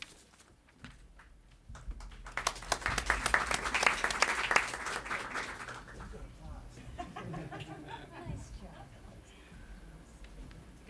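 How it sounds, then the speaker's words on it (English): Audience applause at the CREST Awards 2004 ceremony swells into a burst of clapping, peaks and slowly fades, with someone speaking into a microphone before and after. "I got applause."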